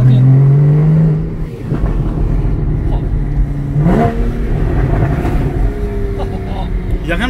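A Porsche Cayman GTS, its engine revving loudly and droning close by, with its pitch rising and falling, under a person talking.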